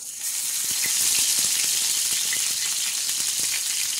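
Cumin seeds dropped onto a hot iron griddle: a bright, steady sizzle with small crackling pops scattered through it, close and moderately loud, with no talking.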